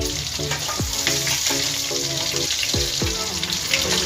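Cumin and mustard seeds frying in hot oil for veg pulao, a continuous close sizzle broken by several sharp popping crackles of bursting seeds.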